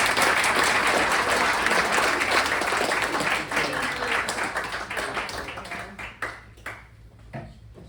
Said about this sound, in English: So I'll invite you to join me in giving Rabbi Ellenson a big round of applause.